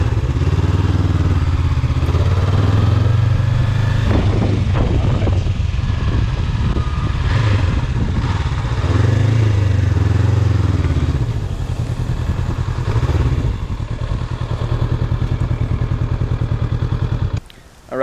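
A 2020 Honda CB500X motorcycle runs steadily through slow parking lot maneuvers, its engine note rising and easing with throttle, with occasional clatter and thumps; no one speaks.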